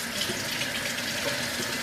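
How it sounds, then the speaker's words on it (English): Water streams steadily from a spray nozzle into a hydroponic bucket, a continuous close hiss and splash with no pauses and no talking. "fill this up with water"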